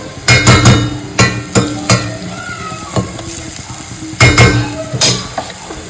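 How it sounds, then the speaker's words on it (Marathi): Masala frying in oil in a pan before quail go in, a loud close sizzle broken by repeated clattering knocks and scrapes of a spoon against the metal pan, in uneven bursts, no voices. "त्याला तेल सुटतंय चांगला फ्राय करायचा मसाला एकदम तेल वेगळं झालेलं आहे"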